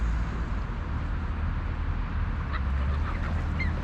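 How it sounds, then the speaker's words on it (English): A flock of ducks at an evening feeding gives a few short honking quacks toward the end, heard faintly over a steady low outdoor rumble. "There's at least a dozen ducks there."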